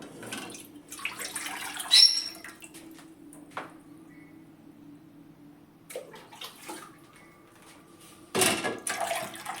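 Water poured into a vessel for homemade soap arrives in short splashy bursts between quiet gaps, close and moderately loud, with no speech.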